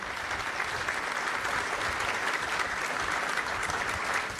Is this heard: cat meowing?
no